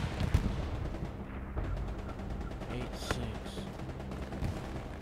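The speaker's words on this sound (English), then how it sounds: "The sound of that gunfire is getting close." Gunfire crackles in a war video game, a scatter of sharp cracks and thuds set back in a dense battlefield din, with a quiet voice speaking briefly.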